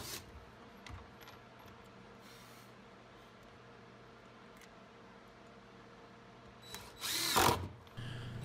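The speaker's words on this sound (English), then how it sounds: "Now we will go ahead and screw the back down into the top of the torsion box." A power drill drives screws into the top of a wooden torsion box, with a sharp, loud burst near the end after a long stretch of quiet room tone and a few small knocks.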